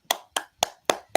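Five sharp hand claps in a steady, evenly spaced rhythm, each crisp and close with a short decay, no talking over them.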